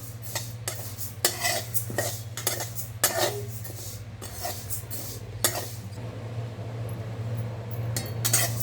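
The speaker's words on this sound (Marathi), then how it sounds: "उडदाची डाळ पण आपली भाजून झालेली आहे." A spoon stirs urad dal dry-roasting in a pan for thalipeeth flour, making repeated scraping and clinking strokes in uneven bursts over a low steady hum, close and alone.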